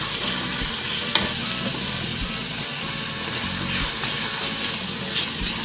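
Dried garlic sizzles in a hot pan as it is stirred for ginisang monggo. A constant loud crackling hiss is broken by a few scraping stirs, with no talking.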